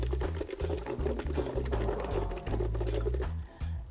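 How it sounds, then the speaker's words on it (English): Air blown through a plastic straw into a water bottle holding mint cuttings, producing loud, close, continuous bubbling and gurgling in bursts, with a brief pause near the end. "if you blow on the plastic straw"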